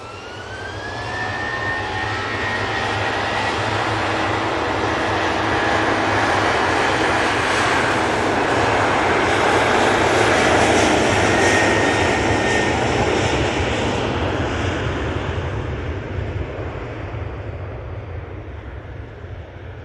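A Ryanair jet airliner at Manchester Airport roars loudly and steadily, its engine noise swelling through the middle and easing slightly toward the end, with a rising whine near the start.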